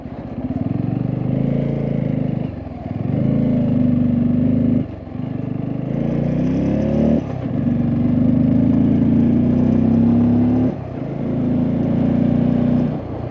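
A motorcycle engine labours uphill in second gear on a rough mountain road, a loud, close, steady drone broken by brief dips between pulls, with no talk.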